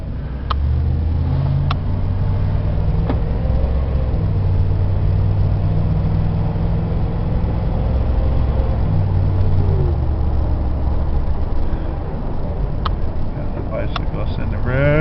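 A Dodge passenger van's engine drones steadily while driving, with a low, even hum of road and engine noise throughout and a few faint clicks.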